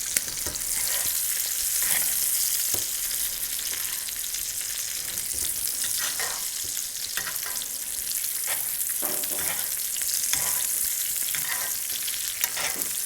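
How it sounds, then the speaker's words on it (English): A rack of lamb sizzles in a pan of butter with garlic and rosemary, a loud, continuous frying hiss with crackling spits and no talking. "when the garlic and the rosemary hit the butter with the lamb roastings"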